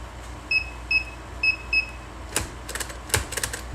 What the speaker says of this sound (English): so we heard a beep